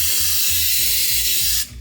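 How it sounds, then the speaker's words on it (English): Lubricant is sprayed from an aerosol can onto a steering rack bolt on a Subaru BRZ / Toyota GT86, a loud, close continuous hiss lasting well over a second before it cuts off. "you really should lubricate this bolt"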